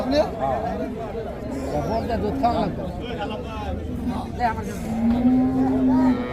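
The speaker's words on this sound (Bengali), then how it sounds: "এখানে একটা খুব সুন্দর বাছুর আছে" Calf and cattle mooing at a busy rural cattle market at Hazratpur, repeated lowing calls close by, with a long drawn moo near the end, over steady crowd chatter and bargaining voices.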